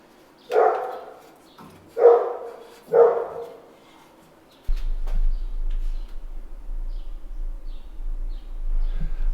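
A dog barks three times in loud, close bursts, followed by a steady low hum with faint background sounds.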